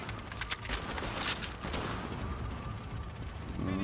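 A weapon in The Division fires sustained, loud gunfire. Rapid shots blur together with a strong low-end rumble throughout, and a short sharp burst comes at the end.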